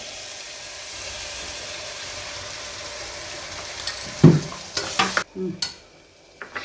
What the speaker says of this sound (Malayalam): പച്ചമണം പോവും വരെ നമുക്ക് നന്നായി ഇളക്കണം കേട്ടോ